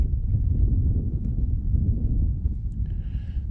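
Wind buffets the microphone on a chilly day over an iced-over pond in west central Wisconsin, a steady low rumble with gusty swells throughout and no talk.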